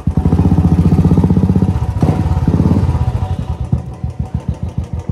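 A motorcycle engine runs close by with a loud, pulsing thump that slows into a rhythmic idle putter toward the end, with a brief sharp knock midway.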